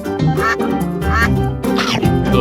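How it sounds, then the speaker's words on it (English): A cartoon duck gives a few loud nasal quacks in quick bursts, close and bright, with a short pause between calls. "Duck."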